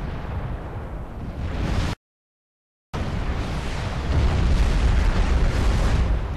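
Heavy nuclear explosions from Supreme Commander 2, a sustained roaring, rumbling blast that cuts out abruptly for about a second and then resumes, growing louder and deeper toward the end, with no voices.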